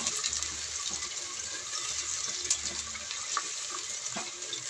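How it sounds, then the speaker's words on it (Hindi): Sliced onions drop into hot oil for an aloo matar pulao, giving a steady hissing sizzle close by with faint stirring clicks and no voices. "ऑयल गर्म हो चुका है तो बस साथ में डाल देते हैं प्याज"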